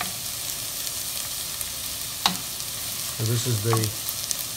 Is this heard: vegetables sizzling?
yes